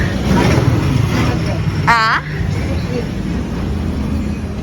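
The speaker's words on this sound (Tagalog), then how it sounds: "Maingay po yung sasakyan, kuya." Busy roadway traffic roars steadily and loudly near a street-side bread seller, a continuous wash of passing vehicles with a brief rising engine or horn-like whine partway through.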